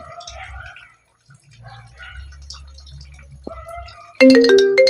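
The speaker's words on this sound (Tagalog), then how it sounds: "Search natin ang Squid Game ringtone." Squid Game ringtone melody starting on a phone, a bright loud tonal chime bursting in after a stretch of quiet room sound and faint low hum.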